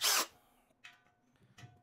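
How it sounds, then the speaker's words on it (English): A power drill reams out a hole for a tight fit on an evacuation trainer build. One short, close whirring burst opens, followed by faint clicks and small handling noises. "I have to ream it out just a hair."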